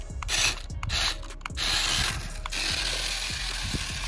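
A homemade remote-control model Mahindra HMT 5911 tractor runs fast nearby, giving a whirring, grinding mechanical rattle with rubbing and ratcheting textures that rise and fall in bursts, with no talk.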